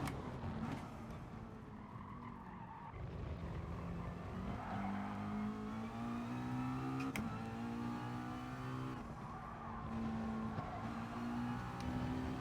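A race car in Gran Turismo Sport drives through FIA testing laps, its engine note holding a steady loud drone that rises and falls with gear changes and throttle, with occasional tire noise and no voices.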